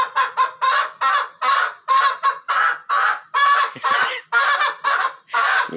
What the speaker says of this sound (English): You think hens aren't loud?